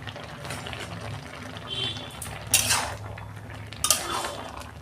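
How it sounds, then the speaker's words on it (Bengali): A spoon stirs boiled hilsa fish head with taro greens in a cooking pot, giving two short scraping clatters against a steady background hiss. "আমি একটু নেড়ে দিচ্ছি।"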